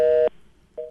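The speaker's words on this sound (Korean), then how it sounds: "전화가 끊긴 것 같습니다." Telephone busy tone after a dropped call on a radio phone-in: one loud steady tone burst, a short silence, then the tone starting again, with no talk.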